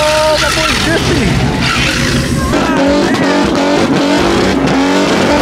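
Car drifting at a JDM car meet turned street takeover, tires squealing in long rising and falling screeches over loud engine revving, with people talking nearby.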